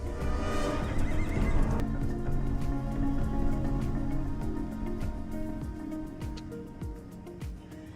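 An injured horse that slipped and fell from a truck neighs loudly in a shrill whinny that fades into snorts and shuffling, with hoof clops and scattered clatter following.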